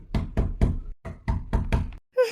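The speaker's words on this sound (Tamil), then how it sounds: "சரி, கதவை தட்டி பார்க்கலாம்." Knuckles rap on a door in two quick groups of four sharp knocks, loud and close, followed by a brief voice-like sound at the end.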